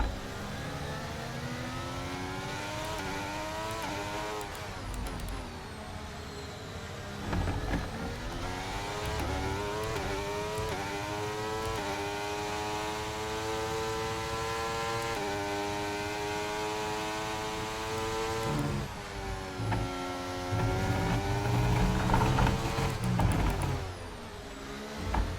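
Formula 1 cars race in the F1 23 video game, with high engine whine rising and falling through gear shifts as cars accelerate and brake, a steady loud drone that swells near the end as other cars pass close by.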